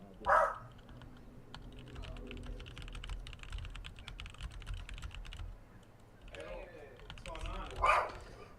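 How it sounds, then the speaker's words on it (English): Rapid, steady keyboard typing clatters close by for several seconds, with a dog barking sharply at the start and again near the end. "I'm typing in Discord, everybody."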